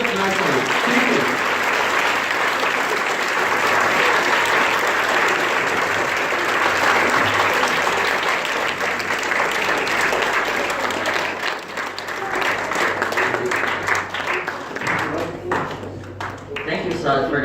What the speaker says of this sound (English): So please clap the loudest clap you've ever clapped in your life for the teachers sitting here